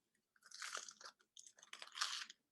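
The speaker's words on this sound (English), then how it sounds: "Ooh, I cannot wait to bite into it." Two crunchy bites into a Mediterranean sandwich, heard up close and fairly quiet, each a burst of crisp crackling followed by chewing, with no talk over them.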